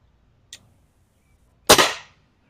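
Air rifle fire on a target: a faint short click, then a loud sharp shot with a brief ringing tail, heard alone in quiet surroundings.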